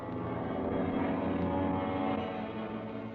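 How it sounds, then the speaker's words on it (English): Airplanes fly overhead in a 1943 wartime radio drama sound effect, a sustained droning engine hum that swells and holds steady, fairly loud and alone. "are our planes. They must be ours."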